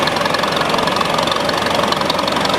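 A restored 1957 Farmall 350 tractor engine with about 40,000 hours and three overhauls runs at a county fair parade, giving a steady, loud, close mechanical knocking rumble with no pause.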